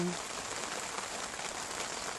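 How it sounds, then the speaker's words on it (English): Heavy summer rain just starting to pour down, a steady dense hiss of drops drumming on surfaces throughout, even and continuous with no voices. "It's just started to chuck it down with rain."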